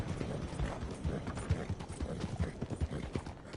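Hooves of a horse in the video game Dead by Daylight clop at a slow walking pace, quiet and a little muffled, with a faint bed of ambient noise underneath.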